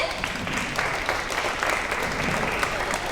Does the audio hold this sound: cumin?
no